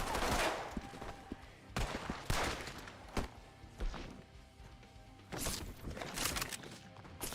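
Repeated bursts of gunfire in the Western video game Red Dead Redemption, several sharp loud shots spread irregularly across the stretch with short gaps between volleys over a steady background.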